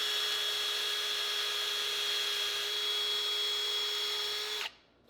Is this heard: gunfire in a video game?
no